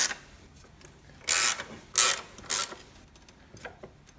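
A ratchet tightening coilover bolts on a BMW E46, heard as three short, loud, rapid clicking bursts at close range, separated by quiet pauses with faint mechanical ticks in between.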